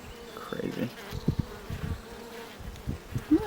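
Honeybees buzz around a beehive in close, fluctuating bursts, with individual bees swelling past the microphone over a low background hum.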